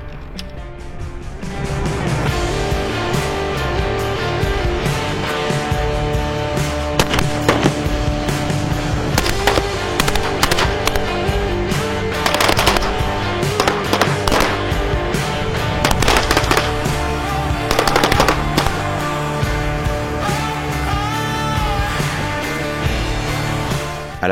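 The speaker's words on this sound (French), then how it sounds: "nous rejoignons les élèves sur le champ de tir pour un tir évalué" Rifle fire during an evaluated shooting exercise at a military range for officer cadets at Saint-Cyr, a continuous crackle of many overlapping shots over a steady background, with no talking.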